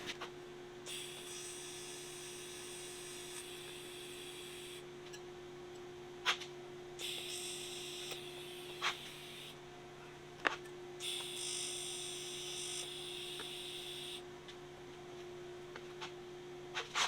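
A TIG welder set to 90 amps but running at low heat during an ice cream machine repair, giving three long stretches of steady high buzzing hiss over a constant mains hum, with occasional sharp ticks.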